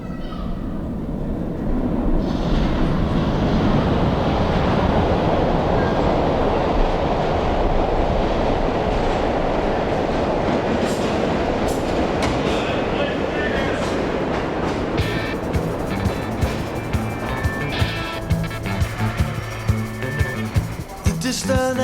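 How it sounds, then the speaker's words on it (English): An underground train arriving within a played song, a loud rumbling rush that builds and holds, then gives way to rattling and clicking as it slows, with the music and voices mixed in. "Stand back. There's a train coming."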